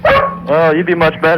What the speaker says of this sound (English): There was actually a dog barking